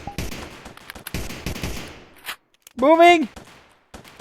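Gunfire in combat training: rapid bursts of rifle shots crackle in quick succession, with shouted commands between volleys.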